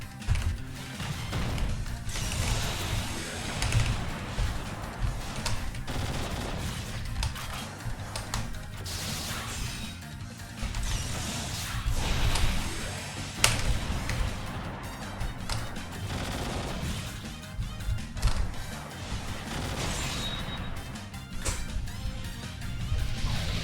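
A sound cannon spellcard attack in the Touhou fighting game Urban Legend in Limbo unleashes a dense, loud barrage of booming, crashing blasts that pound on without pause for over twenty seconds, with no talk.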